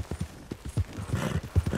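A horse's hooves clip-clop in Red Dead Redemption 2, an irregular run of soft thudding steps heard alone and fairly quietly.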